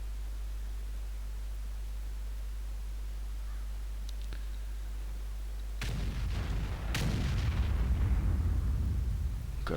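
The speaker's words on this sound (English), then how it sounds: "Gotta love the sounds of those big guns." Big tank guns firing in World of Tanks, with an IS-7 heavy tank in play: after a low steady hum, two sharp booms land a second apart, each followed by a rumbling roar that fades away.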